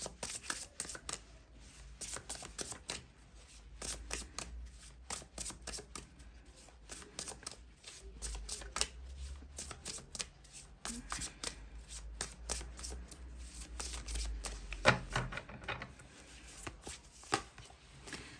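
Tarot cards being shuffled and drawn from a deck, a steady run of crisp riffling and flicking close by, with soft taps as cards are pulled out one after another.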